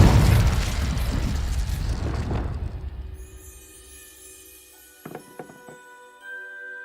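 Explosive spell blasts in Hogwarts Legacy: a loud booming burst fading out over a few seconds, then a quick cluster of sharp pops later, amid quieter game ambience.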